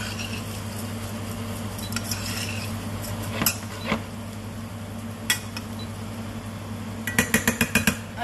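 Rice toasts in a pan for arancini, with a low steady hum, scattered scrapes and knocks of a utensil against the pan, and a quick burst of rattling clinks near the end.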